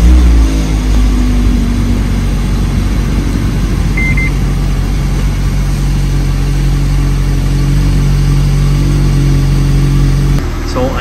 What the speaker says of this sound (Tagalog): Cold start po tayo, umagang-umaga.